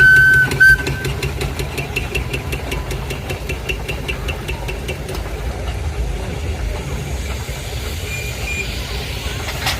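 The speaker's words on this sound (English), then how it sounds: "We've got another Fowler agricultural engine coming in called Berkshire Tower and Queen" A Fowler agricultural steam engine runs at a steam rally in Torbay, giving a steady, loud mechanical chug with rhythmic knocking and a brief high whistle-like tone near the start, surrounded by crowd and engine noise.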